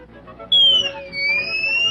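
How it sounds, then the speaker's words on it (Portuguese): A sustained high, shrill whistle starts suddenly and holds for more than a second, its pitch dipping slightly and rising again, clear over a quiet background. "Apito de furacão."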